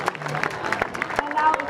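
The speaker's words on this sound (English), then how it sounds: "Let's have a nice round of applause for our underclassmen court members" Crowd applause at a high school football game for the underclassmen homecoming court members, a steady mass of claps with cheering voices mixed in.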